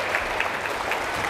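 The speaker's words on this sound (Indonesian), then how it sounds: "tepuk tangan dong Ustadz Ustadzah" Brief, light clapping from a room of Islamic boarding-school teachers, a steady soft patter of hands lasting just over a second with no voices.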